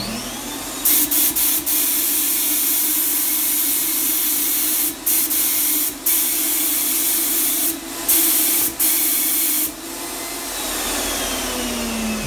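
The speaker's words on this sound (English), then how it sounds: "You do a little spraying on the wall with some water." An Avanti 5-stage HVLP turbine paint sprayer spraying water onto a wall, its turbine a steady loud whir throughout with several short bursts of hissing spray.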